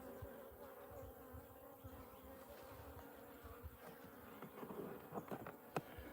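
Bees from a swarm captured two weeks earlier, buzzing in a hive during a midsummer check in Australia, a faint steady drone with a few individual bees passing closer.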